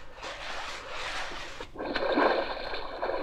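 A large timber log slides down a long chute into a river, a short scraping rush followed by a close, bright splash of water.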